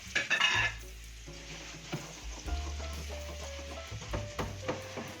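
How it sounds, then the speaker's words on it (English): Small meatballs searing in a pan over medium-high heat, a low sizzle under intermittent clinks and scrapes of a utensil against the pan, with a few louder knocks near the start. "sear the meatballs over medium-high heat for about 5 to 6 minutes"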